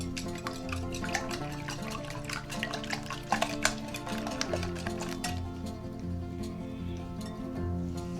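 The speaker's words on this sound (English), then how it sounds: "And now start whisking them." Ingredients for a no-bake chocolate biscuit cake being whisked in a bowl, a fast, even run of close scraping and tapping strokes that eases off toward the end, with no speech.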